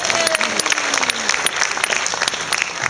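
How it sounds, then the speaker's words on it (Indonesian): Audience applause at a classical music concert, a steady wash of dense clapping that carries on throughout at moderate loudness, with a brief faint tone briefly audible underneath. "Tepuk tangan dong."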